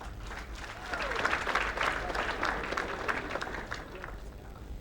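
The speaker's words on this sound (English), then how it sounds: "Another round of applause for the Vice Chancellor." Audience applause at a university matriculation ceremony in a large hall, a sustained wash of many hands clapping at a moderate distance, fairly soft and even throughout.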